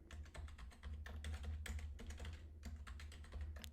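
Password being typed on a computer keyboard: rapid, close clicking keystrokes in uneven bursts with short pauses, steady and fairly loud with no talking.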